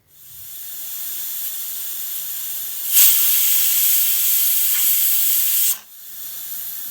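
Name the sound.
pressure cooker whistle releasing steam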